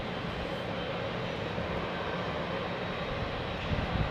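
A Pakistan International Airlines Boeing 777-200 jet departs close by, a steady, broad engine roar holding at an even level throughout, swelling slightly near the end, with no voices.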